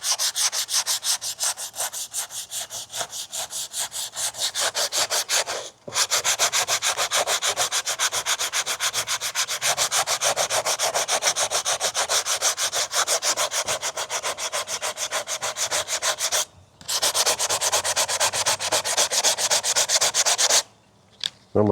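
Steady hand sanding with 180 grit sandpaper, feather-edging a fiberglass repair on cracked plastic car interior trim, a loud continuous close scratching rasp with two brief pauses and no talking.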